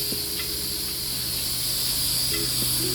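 A spray gun set to low pressure sprays paint onto a helmet, giving a steady close hiss that stays even throughout, with a faint hum underneath and no talking.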